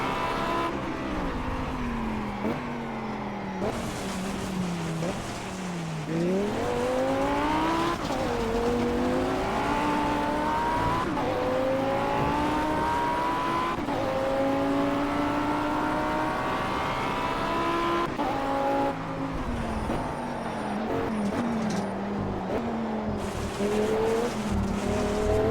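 A race car laps a circuit in Project CARS, its engine note rising and falling steadily through gear changes, with tire squeal and skidding mixed in. The sound runs loud and continuous from start to finish, and no one speaks.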